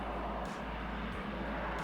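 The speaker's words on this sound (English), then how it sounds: "Jet is in, waiting to see what it is." A Harrier jet roars overhead in a war video game, a steady, loud broadband engine rush that holds throughout with no voices.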